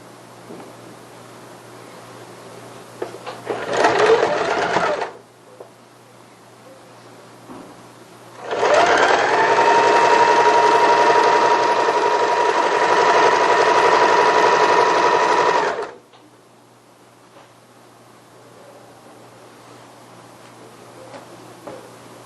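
Sewing machine running a short burst, then a longer steady run of about seven seconds, stitching a folded double hem on a child's strappy sundress; close and loud, with quiet pauses between runs.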